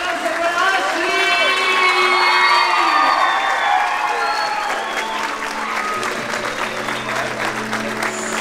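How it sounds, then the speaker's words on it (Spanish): A crowd at Ashley's quinceañera celebration breaks into loud, sustained applause with scattered cheers and whoops, swelling early and then gradually thinning out. "Un aplauso para Ashley,"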